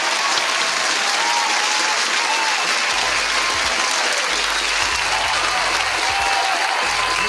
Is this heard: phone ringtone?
no